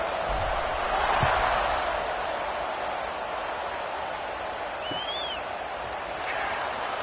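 A large stadium crowd at a college football game keeps up a steady, broad buzz from start to finish, with a commentator talking over it.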